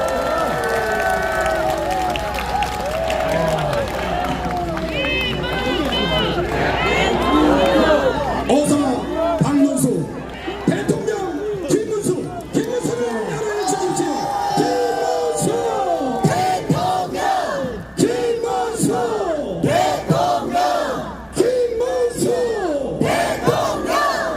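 A large outdoor crowd at a street presidential campaign rally in Gwangmyeong's Rodeo Street cheers, shouts and whoops loudly and continuously, with voices calling out throughout.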